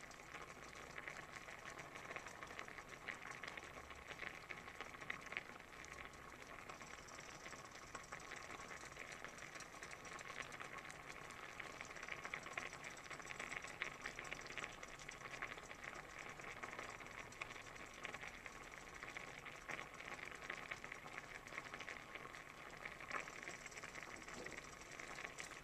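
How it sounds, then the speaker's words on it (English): Oatmeal boils in a pot on the stove, giving off a quiet, continuous bubbling and simmering hiss with no talk over it. "listen to that sound of oatmeal boiling"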